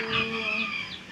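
A hen clucks close by on a farm in a short run of nasal, rising and falling calls, with no talk over it.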